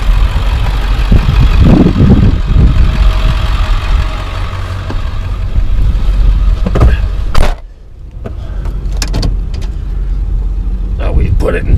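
A car engine drives slowly along a rough dirt track to a fishing spot in four wheel low, giving a loud, rumbling low drone with bumps and knocks throughout, briefly dipping near the middle.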